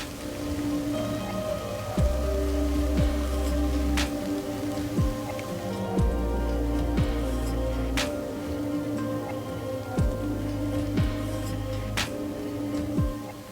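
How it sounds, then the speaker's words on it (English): Steady rain pattering on a surface outdoors in Finland, with scattered louder drops and occasional low thumps, continuous throughout with no voices. "It's raining now."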